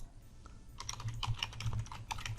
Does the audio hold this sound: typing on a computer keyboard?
yes